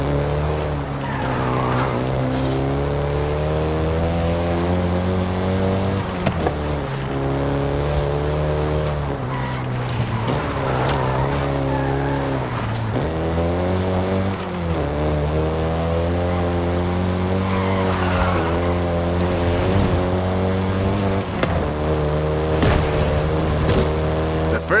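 Volkswagen Golf GTI in the racing game Forza Horizon 5: a loud, steady engine drone that climbs and drops through gear shifts, with repeated tire squeals and skids, alone throughout.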